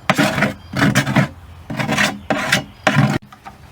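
A hand file rasps across a freshly cut edge to take off burrs, in short repeated back-and-forth strokes that come close and clear in an uneven rhythm, with no speech.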